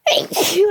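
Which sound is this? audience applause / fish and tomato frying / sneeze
sneeze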